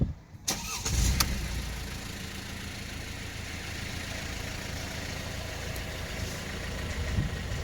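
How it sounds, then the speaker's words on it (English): A Mercedes-Benz E220 cranks briefly and catches after a gearbox oil change, then settles into a steady, even idle close by with no talking. "just gonna start the car up."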